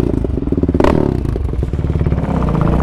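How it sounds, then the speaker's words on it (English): A stock Kawasaki KFX450R quad runs loud and close, its engine chugging in a rapid, lumpy idle. A sharp clatter cuts in near the start, then the steady pulsing beat resumes. "Pete, your quad is loud"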